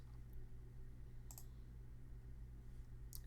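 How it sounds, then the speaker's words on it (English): Two or three brisk computer mouse clicks, spaced apart, over a steady low hum, with no talking. "I'm going to click here."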